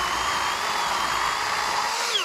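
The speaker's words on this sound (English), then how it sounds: "Alright, so I only made a little bit of a cut there" A Worx 40 volt WG384.9 cordless chainsaw cuts into a tree while a trail is cleared. The electric motor gives a loud, close, steady high whine with no talk and drops away at the very end.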